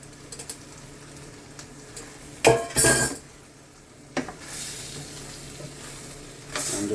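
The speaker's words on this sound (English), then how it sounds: "now I'm going to be adding the ackee." Ackee goes into a hot pot in a Jamaican dish, giving a loud, close burst of sizzle and clatter, then a long, steady frying hiss with stirring scrapes, and no talking.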